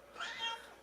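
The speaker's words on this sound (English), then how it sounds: "And if you hear her meowing" A pet cat named Minx gives a single short, soft meow, faint and close, with quiet room noise around it.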